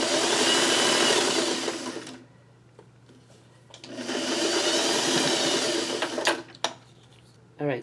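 A sewing machine stitches fabric in two loud, steady bursts of close whirring, each about two seconds long, with a quiet pause between them and a few soft clicks and handling knocks after the second run.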